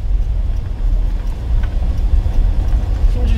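A car engine revving steadily while a learner presses the accelerator during a driving lesson, a loud, continuous low rumble with road noise throughout.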